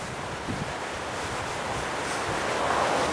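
Steady wind blowing at a seaside camping spot, a continuous broadband rush that swells slightly toward the end, with surf-like roar underneath and no talking.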